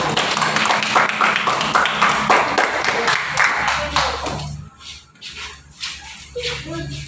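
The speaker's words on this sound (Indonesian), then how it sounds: "Tepuk tangan dulu." A small group of students in a classroom claps for a discussion group, a brief patter of hands under shuffling and chatter, with the clapping fading out partway through and leaving quieter room noise and scattered voices.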